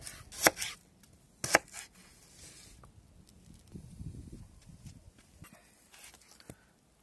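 A couple of crisp knife chops on a board as a carrot is cut into squares, then softer scraping and scattered taps, close and unhurried.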